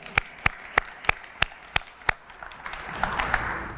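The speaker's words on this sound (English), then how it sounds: "We can clap for that, by the way." Sharp single claps land at a slow, even pace, then a broader wash of audience applause swells toward the end, at a small-business entrepreneurship press conference in Cleveland, Ohio.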